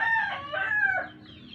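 A backyard rooster crows once, a clear rising and falling call close by that trails off into quiet.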